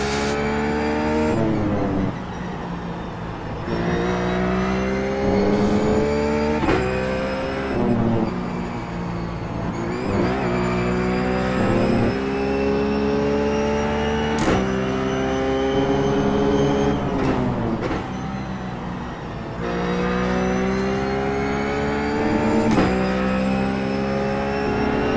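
Ruf GT3 race car engine in iRacing at Laguna Seca, loud and close, revving up through the gears in repeated rising sweeps with sharp shifts and brief lifts, sustained throughout.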